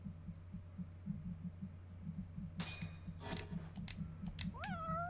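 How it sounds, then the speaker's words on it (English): A cat in the video game Judgment meows briefly near the end, heard over looping background music with a steady pulsing beat. "hi kitty."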